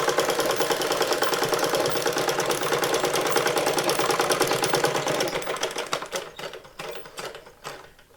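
A close sewing machine top stitching a sari blouse, running in a fast steady rhythmic whir for several seconds, then slowing into uneven stop-start bursts near the end.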